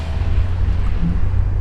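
Caterham Super Seven 600 sports car with a tiny engine, giving a steady, loud low rumble throughout, rough and slightly uneven, with no break in the drone.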